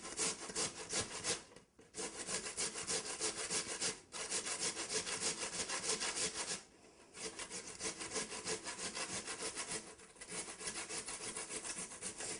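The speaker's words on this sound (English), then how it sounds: "the first thing that you do is grate them using a cheese grater" Raw potatoes rasp against a cheese grater in quick, continuous back-and-forth strokes, close and steady, broken by a few short pauses, with no talking.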